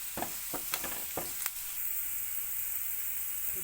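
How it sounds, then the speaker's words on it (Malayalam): Garlic, ginger and dried red chillies fry gently in oil for salted mango pickle, giving a faint continuous sizzle with a few quick scraping stirs near the start. "ഇത് നമ്മൾ വെളുത്തുള്ളി ഇഞ്ചി എല്ലാം നന്നായിട്ടൊന്ന് വഴന്ന് വരുന്നുണ്ട് കേട്ടോ."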